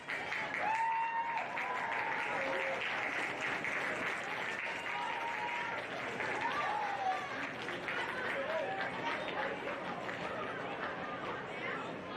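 A high school football stadium crowd at Rogers Heritage claps and cheers in a sustained wash of applause and chatter, steady and fairly loud across the whole stretch, with a public-address voice heard over it.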